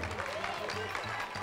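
A studio audience cheers and claps on a Brazilian sports talk show, a steady wash of applause and crowd noise mixed with nearby talk.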